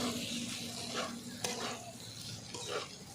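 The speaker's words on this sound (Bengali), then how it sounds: "চিংড়ি মাছ দিয়ে এবার ভাজবো" Small shrimp stir-fry with mashed bitter gourd and potato in a pan, a steady close sizzle broken by soft scraping strokes of the spatula, with no voices.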